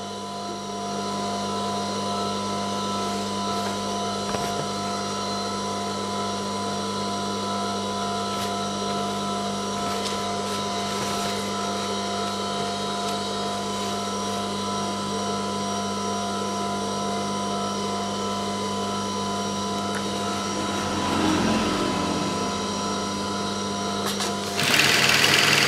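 A sewing machine stitches the body of a high school skirt, humming steadily and close with a fine rapid whir for the whole stretch, ending with brief handling clatter.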